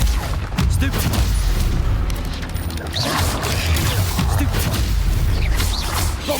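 A Bombarda explosion spell going off in the video game Hogwarts Legacy, part of a dense stretch of booming blasts and crackling impacts that pile up one after another with no pause, loud and close.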